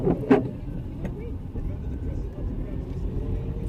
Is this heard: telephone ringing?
no